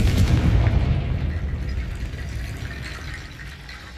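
Fiery Confringo blast spell cast in the Hogwarts Legacy video game, a loud low rumbling boom that starts strong and slowly decays over a few seconds, with no talking.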